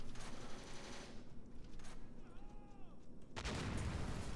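Video game weapons fire in a dense, continuous barrage of broadband gunshots, loudest at the start and again in a heavy burst near the end, with a quieter stretch of whining tones between.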